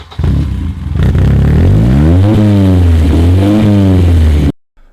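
A BMW M3 E30 with its shortened engine block revs hard, loud and close, the pitch sweeping up and down through several sharp rises before cutting off abruptly near the end.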